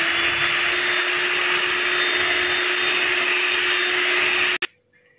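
Electric grinder powdering sugar for chocolate brownies, a loud steady high-pitched whine running continuously, then cutting off abruptly with a click and brief rattle near the end.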